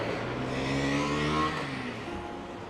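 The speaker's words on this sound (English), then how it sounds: "Noisy cars." Cars roar past nearby with a rising then fading engine drone, one vehicle after another, loud and steady with no talking.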